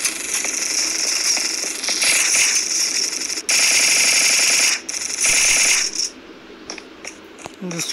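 Loud rapid gunfire in the shooting game Battle Forces, dense automatic bursts in several long stretches with short gaps, then a few lighter shots as it tapers off.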